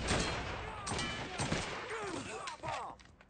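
Gunfire and a Molotov in Mafia 3: a quick burst of several close shots, with a crackling rush of fire and scattered distorted voice-like sounds mixed in.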